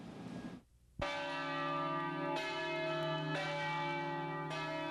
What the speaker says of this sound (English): As church bells tolled